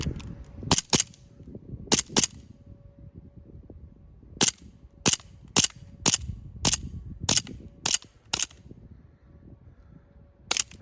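An Elite Force 1911 (A-1) Umarex airsoft pistol fires about a dozen sharp, loud, close snapping shots, some in quick pairs and others spaced irregularly, over faint room noise.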